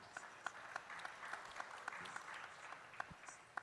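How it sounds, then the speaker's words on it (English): Scattered applause from a conference audience at an annual general assembly, fairly faint and thin with a few sharper individual claps standing out, a murmur of voices faintly underneath. "A round of applause for him"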